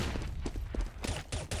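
Gunfire crackles during a competitive Counter-Strike match on the de_dust2 map, a few quick, fairly quiet bursts of shots packed into a brief moment.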